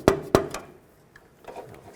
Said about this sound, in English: You can take a rubber mallet or a dead blow hammer, tap